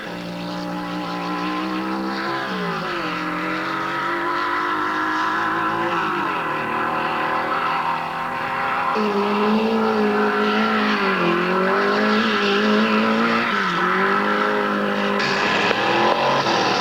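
A 1960s UK drag racing car on a half-mile sprint run at Long Marston, its engine roaring loudly and continuously with rising pitch sweeps as it accelerates through the gears.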